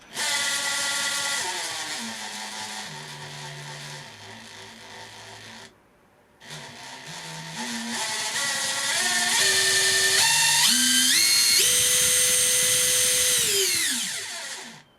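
A Makita 40V TD002G cordless impact driver runs through a sequence of speed settings, its close motor whine stepping up and down in pitch, stopping briefly, then ramping higher before winding down, with no speech.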